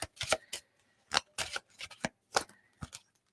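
Tarot cards are shuffled by hand close by, giving a string of crisp, irregular slaps and riffles separated by brief pauses.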